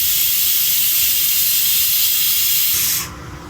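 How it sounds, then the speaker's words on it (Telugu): Tempering for pappu charu frying in a hot pan produces a loud, continuous, close hiss that fades sharply near the end. "ఇప్పుడు ఇది కొంచెం ఫ్రై కావాలి"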